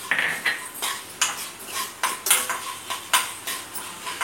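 Urad dal and coriander seeds are dry-roasted in a pan, and a metal spoon scrapes and clinks against it in quick, regular strokes, close and clear, with no talking.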